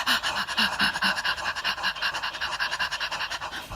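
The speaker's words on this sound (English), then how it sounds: "go faster and faster until you're breathing like a panting" A person doing breathwork pants fast and shallow like a dog, a steady run of quick rhythmic breaths close to the mic, with no talk.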